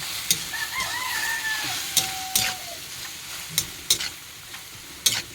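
Squid frying in a pan with oil gives a steady sizzle, broken by a few sharp spatters and utensil scrapes as it is stirred, while a rooster crows in the background.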